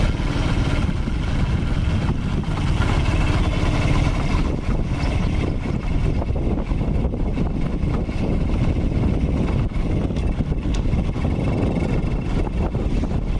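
A Honda Supra X 125 motorcycle, with its engine freshly repaired, riding along in fourth gear: a steady, loud engine drone with constant road and wind rush, unbroken for the whole stretch.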